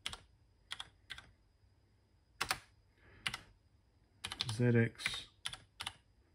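Keys clack on a MEGA65 computer keyboard running a ZX Spectrum core, typed close by in short scattered bursts with a faster run near the end, while a voice briefly speaks between them.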